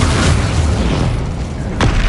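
A Confringo blasting spell explodes in the Hogwarts Legacy video game, a loud, dense boom that fills the whole clip, with a sharp crack near the end.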